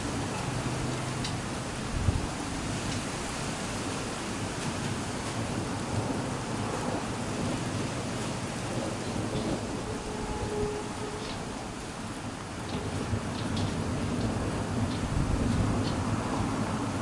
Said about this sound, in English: We're having on and off rain.